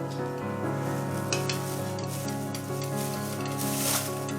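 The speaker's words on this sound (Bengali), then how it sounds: "এখন এতে আমরা দিয়ে দেবো একটি ডিম।" An egg fries in hot butter and oil in a pan, giving a steady, close sizzle with a faint background hum throughout and no talking.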